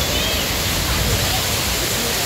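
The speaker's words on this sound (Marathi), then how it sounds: "झरणा तयार होतं तिकडे" A waterfall forming during heavy monsoon rain in the Konkan countryside makes a steady, dense roar of rushing water that fills the whole short stretch without a break.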